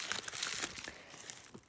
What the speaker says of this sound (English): And I'm just going to unwrap this.